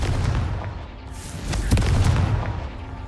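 Confringo blast spell exploding in the video game Hogwarts Legacy: a loud, continuous booming rumble with a sharper detonation burst near the middle, dense low-end roar throughout.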